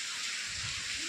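Rain falls in a brief, steady hiss of drops, fairly close and even, with no voices heard.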